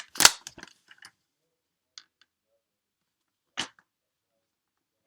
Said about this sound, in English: I'm going to trim one edge. I could use my scissors, but I'm going to use my trimmer.